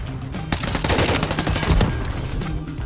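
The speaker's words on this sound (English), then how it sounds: "He just sniped both of us." Rapid gunfire bursts in Modern Warfare 3 multiplayer, with sharp cracks near 0.5 and 1.8 seconds over steady busy game noise, loud and close, no talking.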